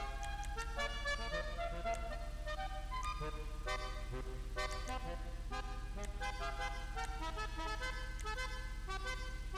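A musical car horn in GTA Online plays a looping melodic tune of bright, steady tones, sounding continuously and fairly loud with no talking.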